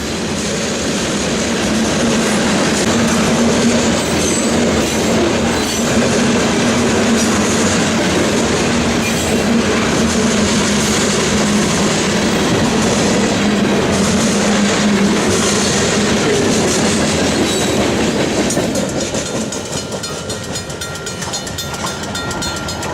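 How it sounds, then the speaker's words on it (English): A Santa Fe locomotive train passing close by on a siding, a loud continuous rumble of rolling railcars with rhythmic clickety-clack of wheels that holds steady throughout and eases slightly near the end. "The end of the train passed the searchlights that guarded the north end of Britain siding and disappeared."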